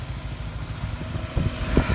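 A heavy GAZ truck's engine labours while its wheels slip in mud, a low rumbling drone with irregular surging pulses that grow louder toward the end.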